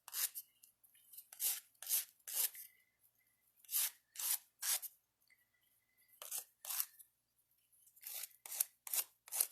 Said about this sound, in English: just take an emery board or sanding stick, whatever you have handy, and just make sure that the edges are nice and smooth